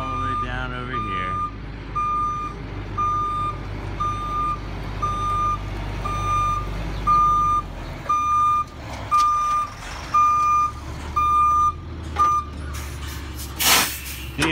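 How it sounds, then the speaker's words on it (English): A tri-axle dump truck hauling dirt into a yard sounds a loud, evenly spaced reversing beep over its rumbling diesel engine, with a hiss of air brakes near the end and some talking in the background. "We've got a tri-axle dump truck and trailers."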